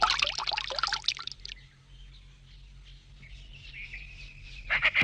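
In a Meena cartoon, water is poured for hand washing as a short splashing burst up front. It fades to a faint trickle, then splashes briefly again at the end.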